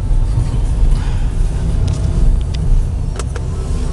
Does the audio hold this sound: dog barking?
no